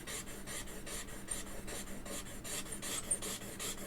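Metal file rasping steadily across a metal workpiece, producing shavings, in regular back-and-forth strokes of even, moderate loudness with no talk.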